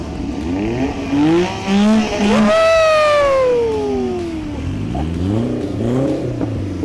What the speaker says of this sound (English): Rev up. Nice. Let me hear this thing.